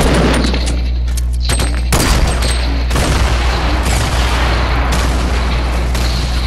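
RPG rockets exploding in a multiplayer shooter video game, several sharp loud blasts and booms with rumbling gunfire in between, dense and continuous.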